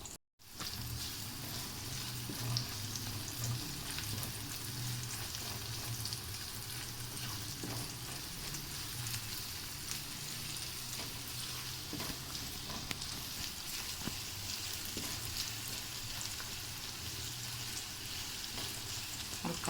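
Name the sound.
chopped onion frying in pan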